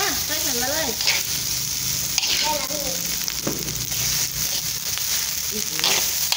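An egg frying in a hot wok while Thai fried rice with minced pork is cooked: continuous loud sizzling and stirring scrapes, close up, with people talking over it.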